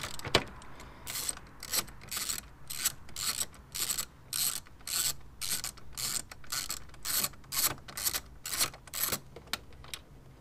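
A ratchet wrench clicks repeatedly in short bursts while undoing bolts in the engine bay of a BMW Mini F56, close and crisp with brief pauses between runs of rapid pawl ticks.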